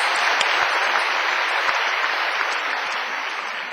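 An audience at a media reform conference gives a round of applause for the speakers. Dense, continuous clapping holds at a steady level with a few sharper individual claps, easing slightly toward the end.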